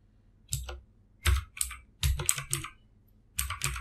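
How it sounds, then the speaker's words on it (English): A password typed on a computer keyboard, several short clusters of quick key clicks separated by brief pauses, close and clear with no talking. "for the time being I am just going to type the password."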